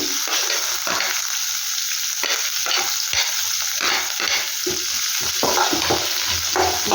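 Chopped onions sizzle in hot oil with green chillies and curry leaves in a pan for a green gram palya, close and steady, while a spoon scrapes and stirs in irregular strokes.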